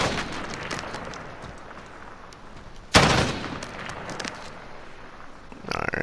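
An M321 rifle fires from the hip in the Modern Warfare video game: a sharp, loud burst of gunfire breaks in midway, followed by a fading, rattling tail over quieter background game noise.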